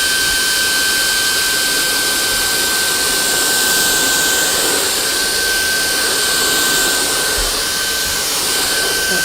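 Shark vacuum cleaner running at full power to suck up spilled coffee beans, a loud steady roaring whine with a constant high pitched tone, close to the microphone and unbroken for the whole stretch, no voices.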